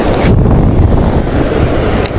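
Strong wind buffets the microphone in a loud, continuous roar while fishing, with a faint water-like wash underneath.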